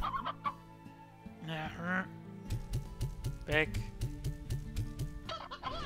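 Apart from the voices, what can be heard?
chickens clucking in the video game Slime Rancher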